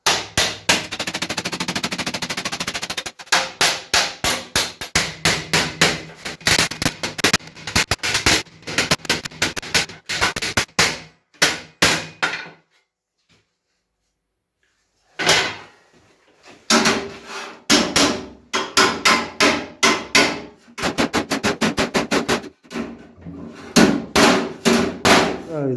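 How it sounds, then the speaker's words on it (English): Sheet metal clamped to a desk is hammered over during a snow sled repair. Rapid bursts of loud, ringing metallic blows are close up, broken by a silent pause midway before the hammering resumes. "just clamp it down to the desk and hammer it over."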